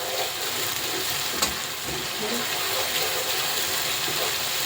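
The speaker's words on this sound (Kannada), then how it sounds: "ಗೀ ರೋಸ್ಟ್ ಅಂದರೆ ಮಸಾಲೆ ಗೀನಲ್ಲೇ ರೋಸ್ಟ್ ಆಗಬೇಕು" Masala roasting in ghee in a pan, giving a steady, close broadband sizzle with a faint scrape or two from stirring, continuous and without talk.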